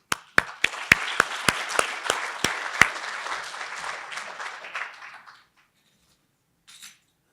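Audience applause welcoming a speaker at a university lecture hall event, dense clapping that swells for about five seconds with a few sharp near claps at the start, then fades out, followed by a faint brief patter near the end.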